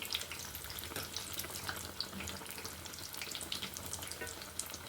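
Plantain fritters (balekayi bajji) coated in rice-flour batter fry steadily in hot oil, giving a dense, continuous sizzle and crackle close by, with no voices.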